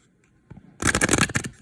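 Dream oracle cards are shuffled up close in a quick riffle of crisp, papery flutters lasting under a second, preceded by a soft handling tap.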